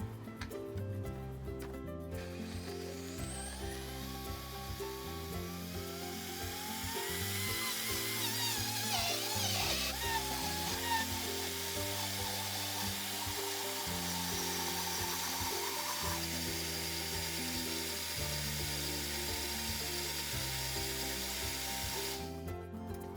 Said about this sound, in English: you may not be familiar with blending, but it's basically like juicing, except you use all the parts of the vegetable